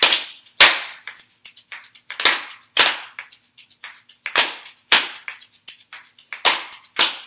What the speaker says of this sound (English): Clap, clap, we go. Clap, clap, you join.